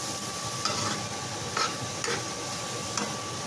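Chopped bottle gourd (upo) stirred in a hot sizzling pan, a faint steady sizzle with a few soft scraping stirs at irregular intervals.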